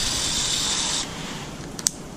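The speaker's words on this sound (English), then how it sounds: "Move out the way of the spray a bit." An Idesion expandable magic garden hose nozzle on the shower setting sprays water in a loud steady hiss for about a second, then drops to a softer spray with a couple of small clicks.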